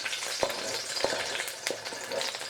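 Green onion frying in a thin wok, a close continuous sizzle broken by several sharp clinks and scrapes of the utensil against the metal.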